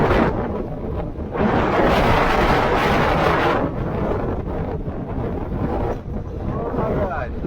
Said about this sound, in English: Mile an hour, 50 mile per hour wind.